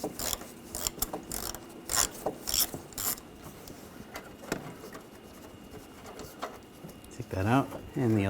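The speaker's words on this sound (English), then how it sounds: "There's 3 screws going in this way. I'm going to take those out. Use a 10mm socket." A hand ratchet with a 10mm socket backs screws out of the front bumper of a 2013-2019 Ford Escape, making quick bursts of close ratcheting clicks mixed with rubbing and handling sounds, and a brief voice near the end.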